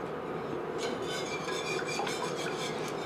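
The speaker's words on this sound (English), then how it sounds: "You can whisk, but you don't have to whisk too vigorously." Lemon curd is whisked gently in a pot, a quiet steady scraping and swishing of the whisk against the pot's sides over a low continuous background.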